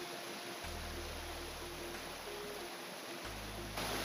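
A forest river flowing near a wooden footbridge, a soft, steady rushing wash of water heard at a distance, with a low rumble coming and going and no talking.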